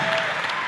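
Brief burst of loud, dense applause and cheering from a concert audience at a show in Saginaw, Michigan, saluting the snare drummer.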